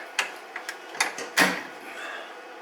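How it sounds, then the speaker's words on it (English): A torque wrench tightens the front differential plug on a Volkswagen Touareg, giving a few sharp, quiet metallic clicks and ratchet ticks spaced unevenly over a couple of seconds, close by and without speech. "Put on the torque wrench."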